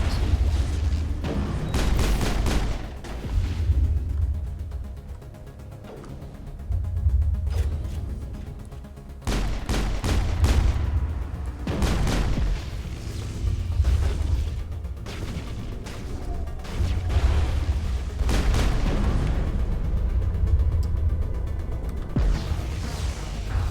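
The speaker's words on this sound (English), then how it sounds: "Large explosions." Repeated heavy booms and blasts from the game Mass Effect, rolling in bursts with rumbling low end, fairly loud and continuous with no talking.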